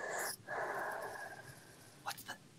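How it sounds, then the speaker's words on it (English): Heavy, wheezy breathing fills a quiet room in an old house, a drawn-out rasp followed by a brief gap and a couple of sharp snort-like breaths, with people speaking nearby. "Who did that noise? What was that? Was that me breathing?"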